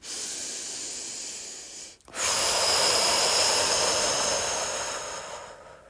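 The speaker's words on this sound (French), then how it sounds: "Petit à petit, on va venir accélérer cette respiration, venir oxygéner, presque même suroxygéner notre cerveau." Fast, forceful breathing in a guided breathing exercise, a steady rushing hiss of quick breaths with a brief pause near two seconds, then louder continuous breathing that slowly fades toward the end.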